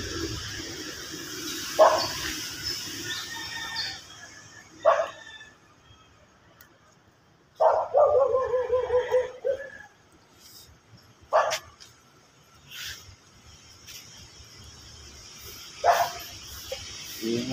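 Dogs bark outdoors in a rural Ilokano cooking setting, several separate sharp barks and yelps scattered across quiet stretches, with one longer burst of barking in the middle.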